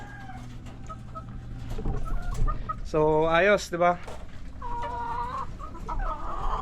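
Two recovering chickens cluck nearby over a low background hum, with one loud drawn-out squawk in the middle, while a person speaks briefly in Tagalog.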